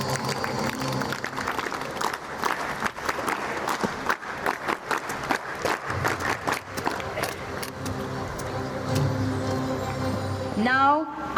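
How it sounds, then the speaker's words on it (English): An audience claps at a school investiture ceremony at Shiva International Residential School, with lively, dense applause that gradually thins out. A voice speaks as the clapping ends. "Give a huge round of applause for him."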